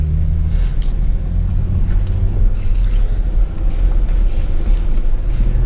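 BMW F30 sedan driving on a road at night, giving a steady low engine and road rumble throughout, with a continuous tire and wind hiss and no talking.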